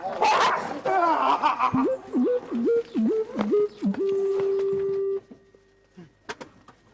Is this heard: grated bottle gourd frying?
no